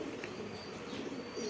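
A pigeon coos softly in a low, murmuring call over a faint background hum, brief and fairly quiet, with no speech around it.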